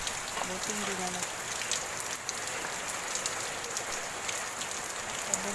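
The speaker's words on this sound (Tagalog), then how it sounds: "Bunso-bunso ang ulan at hangin" Steady typhoon rain patters on a hard surface amid wind, a constant dense hiss with scattered louder drops throughout.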